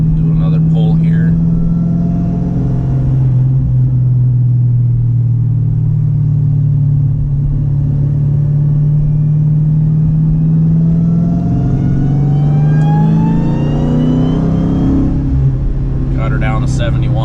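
Car engine pulled at full throttle, a loud steady drone close up that climbs slowly in pitch as it accelerates hard, with rising whine and a brief gear-change dip, voice heard briefly at the start and end.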